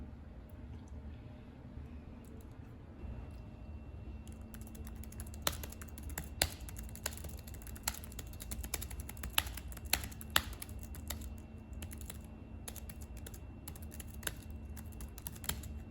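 Steady typing on a computer keyboard while a paper is written, with rapid clicky keystrokes that come in irregular bursts and grow busier partway through, over a low background hum.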